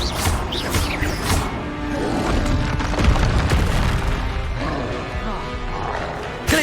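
Spell blasts and combat effects from the Hogwarts Legacy video game, with a Confringo fire spell among them: a loud, dense run of booming impacts and whooshes lasting the whole stretch, with game voice barks over it.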